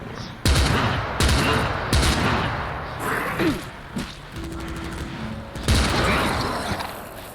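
Repeated gunfire from guns in the survival shooter game Stay Out, with loud bursts and single shots spread across the clip, plus some mechanical clicks between them.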